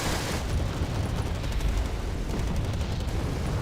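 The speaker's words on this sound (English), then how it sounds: "They have a lot of mortars." Mortar barrages and gunfire rumble without pause through a battle in the real-time strategy game Wargame: Red Dragon, a dense, steady wall of distant explosions and combat noise with no separate blasts standing out.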